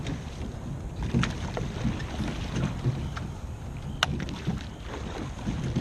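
Oars work a racing rowing barge on open water, with wind rushing across the microphone and occasional splashes and knocks of the blades as strokes are taken.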